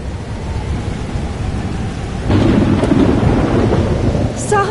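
Thunderstorm in the video game Life is Strange: Double Exposure: steady heavy rain hiss with a deep rolling thunder rumble that swells midway and keeps going, loud and close, with no voices.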